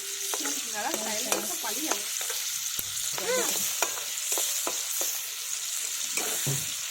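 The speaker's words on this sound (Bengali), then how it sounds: "চিকেনটা ভাজা হচ্ছে" Chicken pieces sizzle in hot oil in a kadai while a utensil scrapes and clanks against the metal pan in irregular strokes, close and clear over a steady hiss, with no talk.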